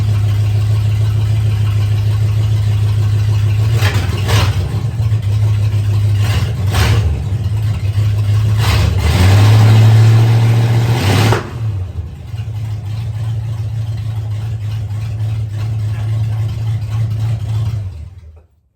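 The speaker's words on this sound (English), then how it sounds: "Exhaust on this mother. You want to hear what freedom sounds like?" A loud 1971 Ford F100 short-bed truck engine rumbling at idle through its exhaust, revved several times in surges, then settling back to a steady idle before cutting off.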